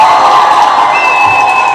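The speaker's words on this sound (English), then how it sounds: "let's give Jarrell a round of applause" A dense crowd roars and cheers continuously, with whoops and a sustained high whistle riding over the steady wash of noise.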